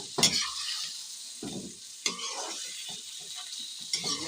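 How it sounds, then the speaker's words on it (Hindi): Sizzling and scraping in a hot karahi as chicken karahi spices with ginger and garlic are stirred, with a few sharper clinks of a utensil against metal; steady frying noise throughout, no talking. "लहसुन अदरक के बाद आप इसको अच्छी तरह से मसाले को मिक्स करें।"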